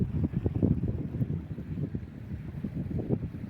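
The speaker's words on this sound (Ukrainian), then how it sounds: "Тут, звичайно, вітряно і прохолодно." Steady autumn wind near the Dnipro river in Cherkasy buffets the microphone in low rumbling gusts, continuous and fairly loud, with no voices.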